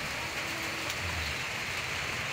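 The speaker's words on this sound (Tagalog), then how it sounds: "Kasi umuulan ngayon dito." Steady, faint rain falls outdoors around a home, a soft continuous hiss with no voices.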